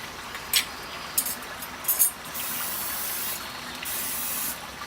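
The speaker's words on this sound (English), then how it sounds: "we spray them with some cooking oil." Several short hissing bursts of aerosol cooking oil sprayed onto Master Forge smoker racks, then two longer steady sprays, close by with no talking.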